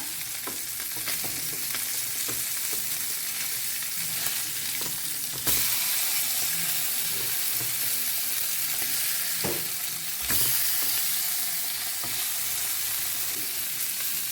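Pomfret fish frying in oil in a pan, browned on both sides and turned over partway through, giving a steady, close hiss and crackle with a few sharp spatters.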